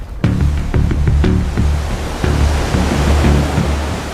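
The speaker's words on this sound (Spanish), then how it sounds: "enormes tsunamis con columnas de agua de casi 300 metros arrasaron América del Norte" Enormous tsunami waves with water columns nearly 300 metres high crash and roar in a dense, continuous wash of surging water, loud and close, with low thuds and rumbling pulses under the spray.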